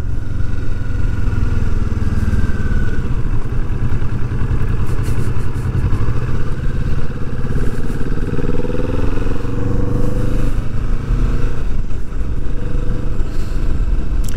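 A 2020 Kawasaki Vulcan S motorcycle on the move, its engine droning loud and steady throughout with a rising and falling pitch as it accelerates and shifts, over constant wind and road noise.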